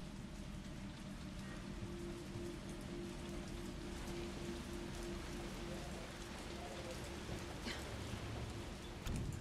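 Steady rain in the Resident Evil 3 video game, a constant dense patter on surfaces with a low background hum, unbroken throughout.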